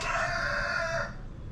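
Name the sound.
chickens clucking and rooster crowing on a farm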